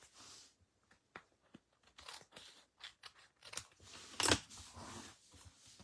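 Scissors snip through paper in a string of crisp, uneven cuts close by, quiet except for one sharper crunch near the end, with no talking.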